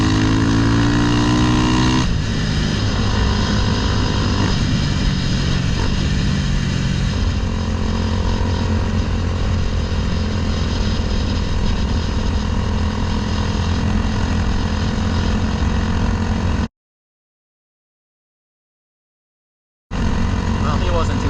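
Honda Grom mini bike with a swapped CBR300R engine being ridden, its loud, steady engine drone running continuously close up with a few rev changes early on, then cutting out briefly to silence before resuming.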